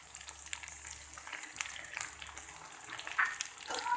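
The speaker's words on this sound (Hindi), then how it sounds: "ऑयल गर्म हो गया, भिंडियाँ फ्राई होना शुरू हो गई हैं।" Okra pieces fry in hot oil for achari bhindi, giving a soft, steady hiss of sizzling that runs evenly throughout with small crackles and no talk.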